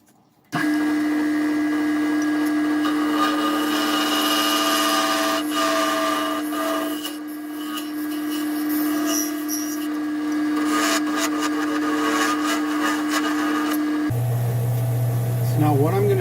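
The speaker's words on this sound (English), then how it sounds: "I will be using a parting tool, which this is your parting tool." Lathe turning a wooden duck call while a parting tool cuts a band tenon, a loud steady whine with scraping, rubbing wood noise over about fourteen seconds, then a deeper motor tone at the end.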